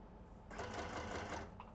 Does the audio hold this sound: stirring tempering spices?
no